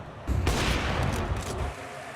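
A Counter-Strike match between FURIA and Team Falcons at BLAST Rivals Hong Kong gives a short, dense burst of rifle fire lasting about a second and a half, fairly loud, then fading.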